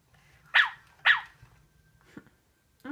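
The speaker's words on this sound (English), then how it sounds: "I did not realize the female Aibo barks were that high-pitched." A Sony Aibo ERS-1000 robot dog gives two sharp, high-pitched synthetic barks in quick succession, close and fairly loud over a quiet room, followed by a couple of faint shorter sounds.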